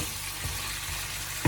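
Onions dropped in with prawns frying in oil hiss and crackle in a dense, close sizzle for a brief moment, with a soft knock near the end.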